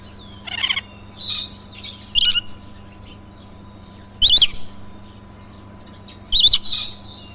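A bird gives short, bright chirping calls in separate bursts with pauses between, fairly close, over a low steady hum, at a small zoo at Mohera Zamindar Bari, Mirzapur, Tangail.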